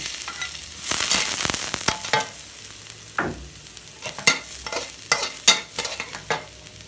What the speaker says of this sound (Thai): วันนี้ผัดผักเช่นเคย ลงกระเทียม